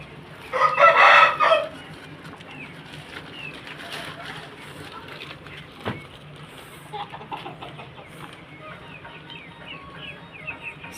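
A foreign-breed fighting rooster crows loudly once at the start, then it fades into quieter background with faint chatter and scattered bird noises.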